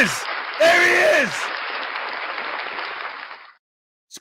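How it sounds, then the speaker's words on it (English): A crowd gives a round of applause, a dense burst of clapping that swells quickly, holds for a few seconds, then fades out, with a voice sounding over the start. "round of applause for the amazing, incomparable Unclean Hands"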